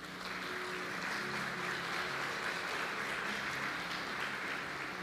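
A church congregation applauds during a service, a steady wash of clapping for the full stretch at moderate level, with a faint sustained tone beneath it.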